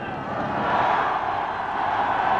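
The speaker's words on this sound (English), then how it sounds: "Listen to the crowd." A large crowd roars and cheers steadily at the Paris-Roubaix cycling finish as a Frenchman sweeps in to win, a dense, continuous wash of voices that swells slightly and holds loud throughout.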